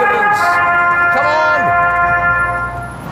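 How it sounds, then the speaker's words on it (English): Homemade budget ambulance siren blaring loud and close, a steady multi-tone wail with pitch sweeps, running continuously under faint background noise. "My siren, like my ambulance, was designed to scare people out of the way."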